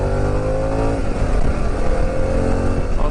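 A Harley-Davidson Pan America motorcycle engine drones steadily while being ridden on a test ride, a close, loud, continuous rumble with slight shifts in pitch and no voices.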